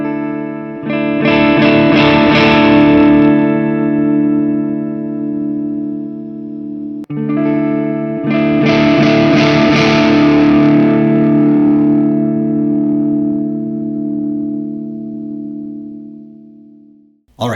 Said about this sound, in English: start off kind of clean and dig in until the amps break up, and then listen to them sustain